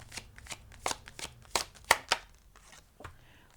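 Tarot cards shuffled by hand in a quiet room, a series of crisp riffling bursts and soft card slaps arriving irregularly, close and moderately loud, with no talking.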